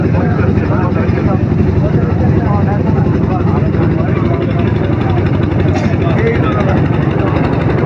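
Constant loud drone of a motor boat engine carrying passengers across the Brahmaputra river, steady and close with no breaks.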